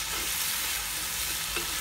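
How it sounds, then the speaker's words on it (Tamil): Chopped onions sautéing in a pan for mutton biryani, giving a dense, continuous sizzle that stays even throughout, close by with no talking. "வெங்காயம் நல்லா கொஞ்சமாக வதங்கணும்."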